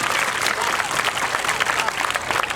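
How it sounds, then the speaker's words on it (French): Audience at a national children's-rights culture week event applauding their supervisors, steady dense clapping from a crowd with a few voices mixed in. "On applaudit pour vos encadreurs."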